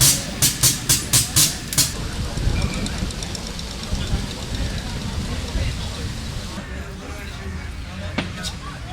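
A model steam locomotive runs along a track at a model engineering exhibition, opening with a quick series of six sharp rhythmic chuffs or clanks, then settling into a steady rumbling roll with faint clicks over a busy background.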